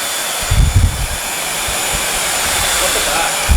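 A Bissell Featherweight lightweight bagless stick vacuum switches on with a couple of low thumps, then settles into a steady, loud, broadband motor whir that holds to the end.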